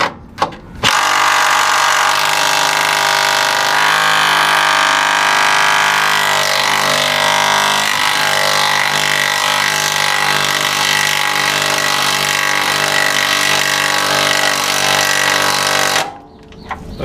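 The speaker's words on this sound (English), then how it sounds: "Now we're gonna stick our impact wrench up on here." A pneumatic impact wrench hammers continuously at a seized rear suspension bolt on a 1997 Honda Civic, loud and close, one unbroken rattling burst of about fifteen seconds with no talk.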